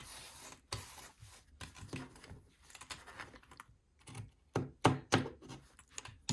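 Scissors snip through the excess length of a zipper while a fabric Thank You Pouch bag is sewn. The cuts come as a quiet, close series of irregular crisp clicks and crunches with no talking.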